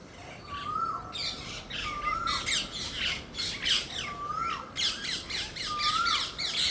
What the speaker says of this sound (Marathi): चिमण्या, पोपट इतका गोंधळ चालू आहे.